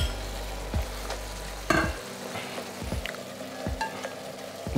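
Chicken cooks in a pan for teriyaki chicken with a quiet, continuous sizzle broken by several sharp scraping stirs and knocks of a utensil, with no speech.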